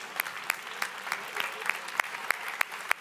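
Audience applause at the ÔParleurs 2021-22 finale, a steady wash of many hands clapping with sharp individual claps standing out, moderately distant and continuous for the whole stretch.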